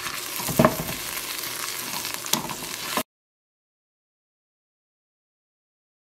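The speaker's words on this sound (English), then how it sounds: "we're going to place in our ham bone, and we're actually going to let it cook for a couple minutes on each side" A ham bone searing in hot butter and oil, sizzling and crackling loudly up close for about three seconds before cutting to silence.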